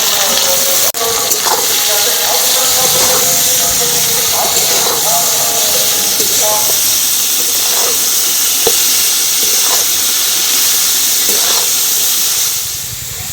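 Steady loud hiss and sizzle of chopped cabbage, onion and green chilli frying in a hot pan, with faint clinks of a utensil stirring now and then throughout.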